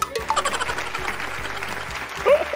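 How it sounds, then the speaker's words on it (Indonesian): An audience at a children's magic show claps briefly, a short patch of scattered hand claps over steady background noise. "Tepuk tangan dong."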